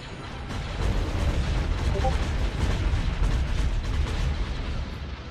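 Heavy weapons fire from starships in the space strategy game Sins of a Solar Empire, a dense, continuous rumbling barrage of booms and bursts that stays loud and steady throughout.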